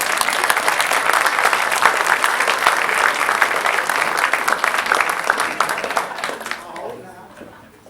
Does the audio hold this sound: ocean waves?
no